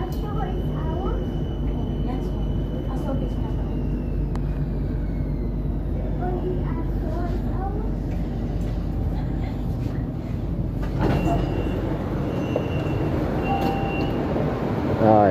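A Bangkok BTS Skytrain at an elevated station gives a steady mechanical rumble with an electric whine falling in pitch as it slows, over continuous station bustle.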